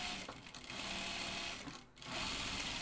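A sewing machine hums and clatters steadily while top stitching a seam on a pair of jeans, heard close with a brief pause before it resumes.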